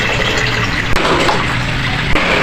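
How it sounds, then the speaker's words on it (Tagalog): Water poured steadily into a cooking pot of sautéed garlic, onion and ginger while making papaitan beef stew, a loud, continuous splashing fill up close with no talk. "lagyan natin siya ng tubig after natin igisa yung bawang sibuyas luya"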